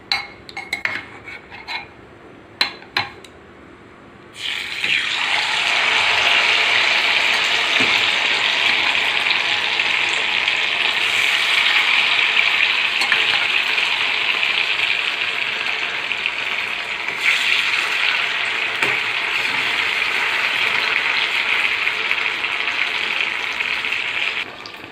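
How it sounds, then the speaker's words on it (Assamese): Paneer pieces frying in hot oil in a wok, giving a loud, steady sizzle that starts abruptly after a few faint clinks and continues unbroken close up. "এয়া আমি কেৰাহীত অলপ তেল গৰম কৰি লৈছোঁ। এতিয়া ইয়াত আমি প্ৰথমে পনীৰখিনি ফ্ৰাই"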